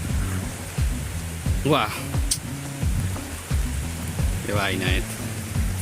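Steady rain pours down outdoors in a rural area of Puerto Plata, a continuous dense hiss filling the background while someone talks over it.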